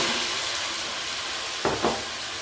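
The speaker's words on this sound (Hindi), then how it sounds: "अब मैं आलू और मटर को अच्छे से भूनूंगी।" Potatoes and peas frying in spices in a pan, a steady close sizzle with two brief stirring scrapes near the end.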